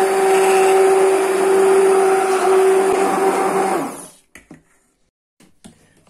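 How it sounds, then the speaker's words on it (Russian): A blender purées cooked cherry plums with a loud, steady motor whir for about four seconds, then cuts off. A few short clicks and taps follow in near silence. "Теперь я при помощи блендера хочу измельчить,"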